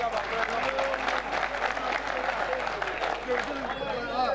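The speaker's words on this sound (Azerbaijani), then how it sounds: "Mənim qardaşımı alqışlayın." Audience applause at a wedding celebration, a steady crowd of clapping hands filling the room, with speech and other voices mixed in over it.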